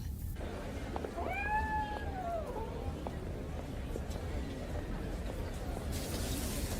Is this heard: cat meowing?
yes